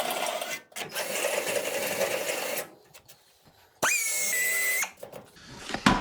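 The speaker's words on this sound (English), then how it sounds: "I'd have to just get my drill" Power drill running during rust repair on a Chevy C10 rocker panel in a garage: a loud sustained whirring burst for a few seconds, a quiet gap, then another shorter high-pitched whine and faint clatter, with no talk.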